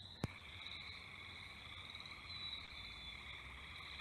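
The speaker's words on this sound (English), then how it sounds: "more of a melodious, continuous trill. That's the gray tree frog, their call." Gray tree frog calling, a melodious continuous trill that carries steadily throughout, fairly faint, with other frogs in the background and a brief click at the start.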